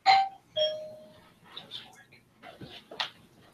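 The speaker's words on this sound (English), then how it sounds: "ding dong" A doorbell rings out with a two-note ding-dong chime in the opening second, bright and fairly close, followed by faint murmuring voices and soft background noise.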